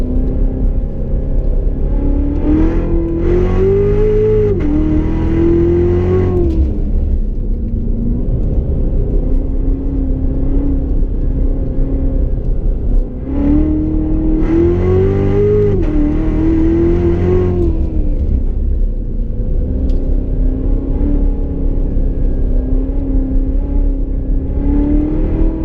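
A Chevrolet Corvette Z06 with the Z07 package and automatic transmission accelerates around a figure-eight track, its engine rising in two strong revving pulls, each dropping back to a steady droning rumble between them, heard from inside the car.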